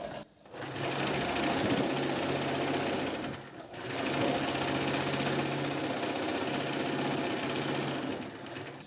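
An electric sewing machine stitches a blouse in a steady, continuous whir for several seconds, with a short pause near the start and another midway before running again.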